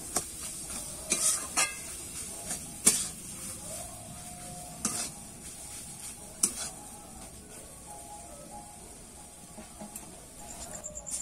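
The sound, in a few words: stir-frying raw jackfruit mixture in a pan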